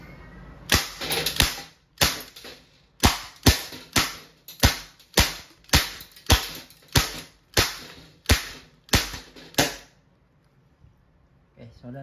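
Rapid series of about a dozen sharp shots from an Umarex Colt Defender non-blowback airgun pistol striking a tin can, evenly spaced cracks each with a brief metallic ring, close and loud, followed by quiet.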